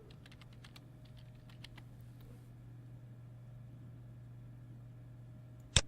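Fast keystrokes on a computer keyboard as a tag name is entered, a quick burst of clicks in the first two seconds over a steady low hum, then quiet, with one sharp key tap near the end.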